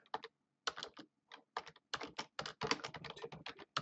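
Quick, uneven bursts of keystrokes on a computer keyboard while entering a year into an Excel macro input box, crisp close clicks in short clusters separated by brief pauses.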